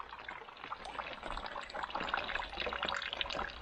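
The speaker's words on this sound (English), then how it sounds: "You can see the water running off the awning." Rainwater runs and trickles off a caravan awning in a continuous soft splashing stream, close by and fairly quiet, with no talking.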